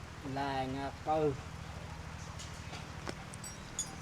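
Rain falls steadily around a roadside stop where a tire has burst, a soft continuous hiss with a few scattered drops. Someone speaks briefly over it at the start.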